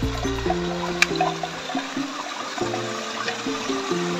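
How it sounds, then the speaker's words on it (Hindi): Water flows and trickles steadily in a mountain stream at Karupata Ludu in Kandhamal, a continuous close rushing wash with a brief splash near the middle and low tonal hum beneath. "एठू पानी झरुची है"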